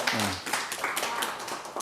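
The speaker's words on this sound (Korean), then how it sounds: "박수 한번 줘" A short scatter of hand claps rings out mixed with voices, quick and uneven, lasting under two seconds.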